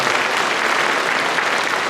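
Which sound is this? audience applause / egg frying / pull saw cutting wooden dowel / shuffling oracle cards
audience applause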